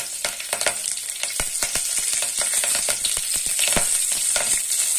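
Mustard seeds and curry leaves sizzle and crackle in hot oil for ridge gourd chutney, with sharp popping bursts over a steady hiss, close and loud, no talking.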